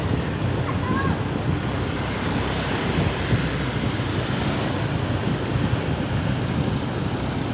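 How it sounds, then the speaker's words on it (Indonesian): A generator runs during a power outage in a village on Simeulue, Aceh, making a steady, low, rushing drone that fills the background without change for several seconds. "Ini pakai genset, suara gensetnya masih ya ada terdengar ya suara gensetnya."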